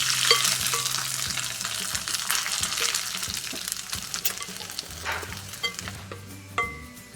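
Dried red chillies and curry leaves fry in hot oil for a Kerala chammanthi, a steady loud sizzle with scraping stirs and occasional spoon knocks against the pan.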